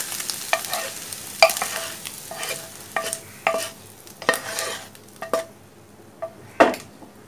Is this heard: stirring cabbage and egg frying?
yes